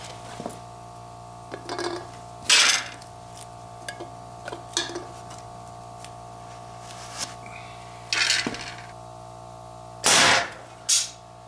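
An air-powered arrow gun at 600 psi fired at an empty aluminum can outdoors: a few loud sharp bursts with impacts spaced across the clip, separated by quiet stretches with faint ticks and a steady low hum.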